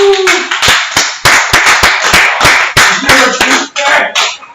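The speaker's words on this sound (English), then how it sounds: "So everybody clap to that shit." A live comedy show audience claps along, loud, close, uneven hand claps at a quick irregular pace with a whoop and some voices mixed in.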